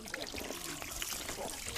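Cool spring water trickles and splashes steadily over hands being washed outdoors, soft and close, with a continuous low rush of running water.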